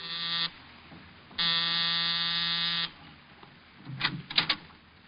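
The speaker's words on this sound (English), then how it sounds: "I was punching the buzzer to Saxon's apartment" An electric apartment door buzzer sounds twice, a short blast then a longer one of about a second and a half, loud and harsh, followed by some faint knocking.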